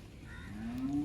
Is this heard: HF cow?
yes